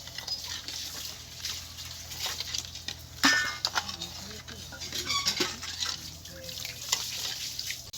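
Rasna drink mix and sugar stirred into water in a bowl, a steady scraping swirl with soft clinks and splashes running throughout, moderately close.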